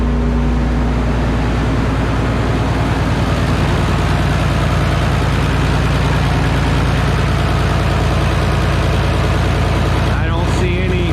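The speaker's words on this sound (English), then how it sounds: "Sit here and idle for a bit." A Minneapolis Moline A4T 1600 tractor engine idles steadily and loudly up close, a deep, even low-frequency chug that runs throughout without pause.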